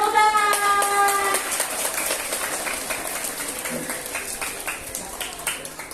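Schoolchildren at an elementary school literacy event clap their hands together in a lively, scattered burst. It begins under a lingering sung note, then continues as uneven claps that gradually thin out.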